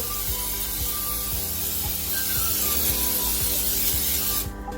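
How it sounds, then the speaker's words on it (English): Cooking spray hissing steadily into a bundt cake mold for flan, a continuous close spray with faint rhythmic ticks underneath, cutting off at the end. "You're going to get your cooking spray and you're going to spray it down."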